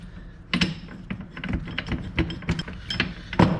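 A spring compressor tool is cranked down on a Chevy TrailBlazer strut during a Rough Country 2-inch leveling lift install, giving a series of close, uneven ratcheting clicks and metal ticks with no talk.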